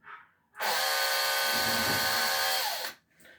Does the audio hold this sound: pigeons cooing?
no